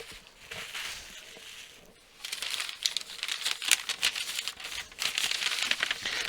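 Paper wrapping around a mailed package of comic books is crumpled and torn open nearby, crisp crinkling and ripping coming in busy bursts after a brief lull.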